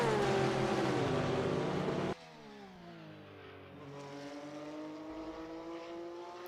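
GT3 race cars, a Corvette and a Porsche, racing at Circuit Zandvoort, with a loud engine roar that cuts off abruptly, then a steady high revving drone of cars circling at mid distance.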